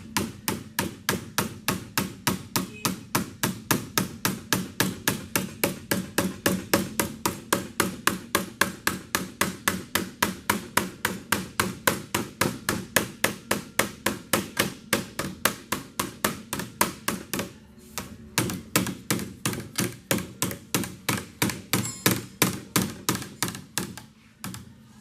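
Steady, rapid hammer blows on metal, several strikes per second, ringing close and loud for a long stretch, with a brief pause before the rhythm resumes.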